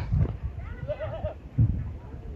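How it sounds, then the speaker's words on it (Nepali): A goat bleats once in a short wavering call on a hot-weather Nuwakot farm, set among low rustling and thumping background noise with no clear talk. "यहाँ चाहिँ हाम्रो बाख्राहरू छ"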